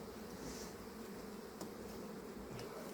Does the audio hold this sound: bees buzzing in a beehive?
yes